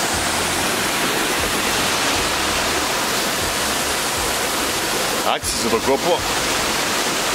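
A waterfall of the Orlias falls near Dion, Greece, pours over slippery rocks in a loud, unbroken roar of rushing water, with a brief spoken remark near the end.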